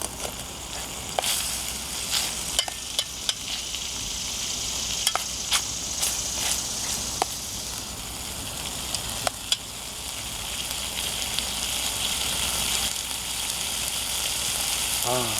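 Pork duruchigi frying in oil in a thin aluminium pot over a campfire, a steady close sizzle with scattered crackles and pops and occasional stirring clatter.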